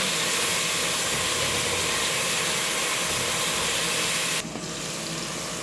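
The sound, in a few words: sautéing tomatoes with garlic and onion for kabsa chicken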